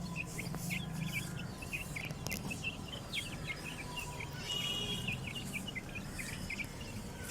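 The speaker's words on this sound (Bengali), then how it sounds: "এই সব মুরগিগুলোকে আমি বর্তমানে এই খাঁচাটিতেই রাখি।" Broiler and Sonali chickens, about two months old, kept in a cage on a rooftop garden, give soft repeated clucks and chirps over a steady buzz of insects and crickets, with a low outdoor hum throughout.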